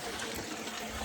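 Liquid drains steadily out of a tub with its lid off near a cabin, splashing into a muddy puddle below; a continuous, close, fairly loud trickling and splattering wash with no pauses.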